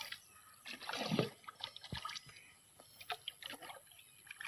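A paddle works a wooden boat slowly along the Kaingaran river, giving soft splashes, drips and trickles at an unhurried pace, close and fairly quiet, with a sharp knock partway through.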